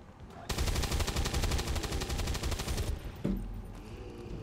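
Automatic gunfire in the turn-based tactical game XCOM 2: a dense, rapid burst of shots lasting about two and a half seconds, loud and close, followed by a heavy impact and lingering rumble.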